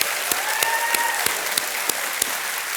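Steady studio audience applause on a television quiz show set, an even wash of clapping with a few sharper claps standing out, continuous throughout with no talk over it.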